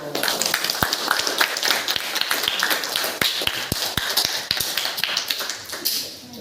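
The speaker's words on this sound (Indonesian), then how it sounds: "Beri aplaus untuk kelompok video" Classroom applause for a student group after their video presentation, a dense patter of many hands clapping steadily with a few sharper, louder claps standing out, close and continuous throughout.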